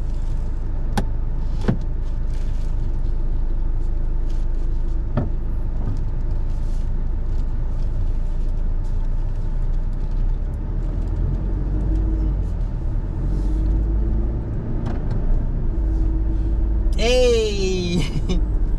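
A brand-new 2025 Toyota Hilux cruises on a highway, its engine and road noise forming a steady low rumble throughout, with a few brief clicks and a short high whine near the end, while a person talks over it.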